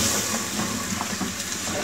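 Potatoes frying with spices and tomato purée in a pan for aloo methi sabzi, a steady close sizzling hiss throughout with no talk.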